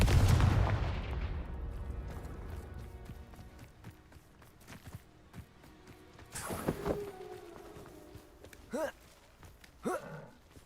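Confringo blasting spell cast in the Hogwarts Legacy video game, a loud opening burst that decays into rumbling, followed by several sharper effect hits and whooshes near the end.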